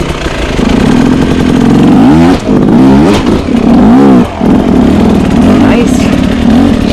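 A loud, close enduro motorcycle engine revs hard and accelerates while being ridden, its pitch sweeping up and down through several throttle bursts, with the rider's voice faintly mixed in.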